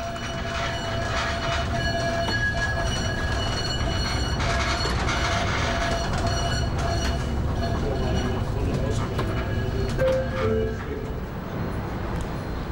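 A Tatra tram in Chemnitz rumbles steadily along the tracks nearby, with rhythmic clacking, metallic squeals and a brief high whine, loud and continuous throughout.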